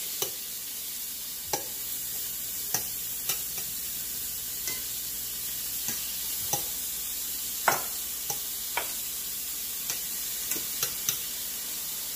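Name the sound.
shrimp and garlic frying in a pan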